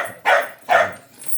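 A dachshund and askal mixed-breed dog gives two short, sharp barks close by, each followed by a brief pause, with a faint yip at the very end.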